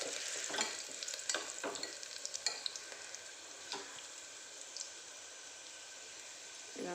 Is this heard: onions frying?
yes